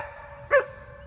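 A single short, sharp bark from a dog outdoors, rising briefly over a low background rumble.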